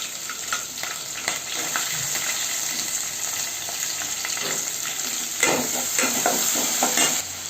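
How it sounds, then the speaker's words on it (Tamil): Chana dal, urad dal and onion sautéing in a pan, a steady close sizzle and frying hiss with scraping stirs throughout and a louder burst of stirring near the end; no one talks. "இப்போது கடலைப்பருப்பு உளுத்தம்பருப்பு போட்டுக்கலாம். கொஞ்சம் வதக்கிக்கலாம்."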